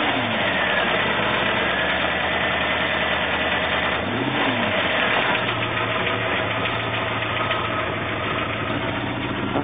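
A 1977 Jaguar XJ12 engine runs steadily at idle with a loud, continuous low rumble. Its tone shifts briefly near the middle as the engine catches and settles.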